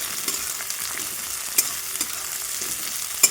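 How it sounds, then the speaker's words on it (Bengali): Onions frying in a pan with whole garam masala and bay leaves for a meat curry, a steady soft sizzle with occasional sharp clicks of stirring and spatula taps, no voices. "পেঁয়াজটা ভেজে নিই"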